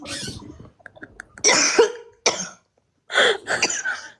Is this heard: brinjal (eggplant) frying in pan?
no